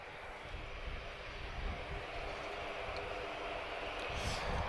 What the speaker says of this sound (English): let's enjoy this C-130J